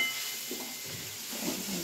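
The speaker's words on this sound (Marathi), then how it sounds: "परतून घेऊया वांग्या." Brinjal sautés in a pan with a continuous soft hissing sizzle, faint stirring sounds rising briefly at moments, with no talking.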